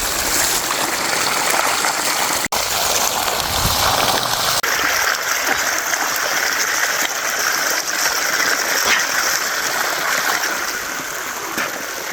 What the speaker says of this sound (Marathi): पाणी इथून येऊ राहिले मोटरने.